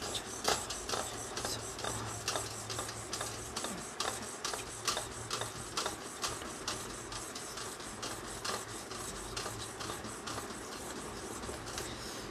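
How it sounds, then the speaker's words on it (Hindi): An item is rubbed back and forth on a sharpening stone in a steady, even rhythm of short rasping strokes, close and moderately quiet, continuing without pause and with no talking. "तो इसको आपने घिसना है। तो मैं आपको घिस के दिखाता हूँ।"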